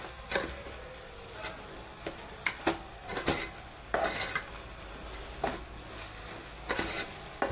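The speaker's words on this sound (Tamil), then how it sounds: "ஒரு நல்லா கிண்டிக்கணும்" Ginger garlic paste and chicken stirred in a pan, with a series of sharp spoon scrapes and clinks against the metal over a faint sizzle, irregular and close, with no talking.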